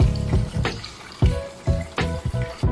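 Water poured into a Joybos JBS-M16 rotary mop bucket, a loud close splashing and gurgling stream in uneven pulses, heard alone without talk.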